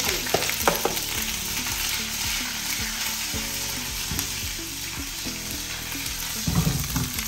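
Spices crackle and sizzle in hot oil while tempering for Singapore rice, a dense close frying hiss with scattered pops and occasional clinks of a utensil against the pan.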